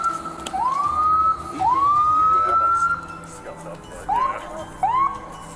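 An ambulance siren sounds close by at a roadside police stop, rising wails in repeated bursts over a rumbling engine, with people talking at the same time.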